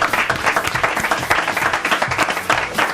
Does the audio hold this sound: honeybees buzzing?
no